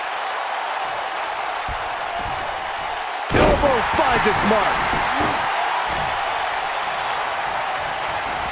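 A wrestling arena crowd roars steadily during a Universal Championship main event between two wrestlers. A heavy slam cuts through midway, and a commentator talks over the din.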